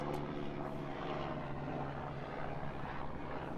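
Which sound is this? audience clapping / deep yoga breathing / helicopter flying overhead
helicopter flying overhead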